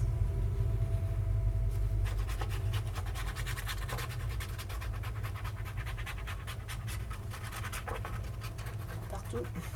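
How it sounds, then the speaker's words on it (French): A train passes outside a room where paper crafting is underway, heard as a steady, heavy low rumble throughout, with sharp clicks and rustles of paper and tools on top. "Excusez, il y a du bruit, c'est le train qui passe."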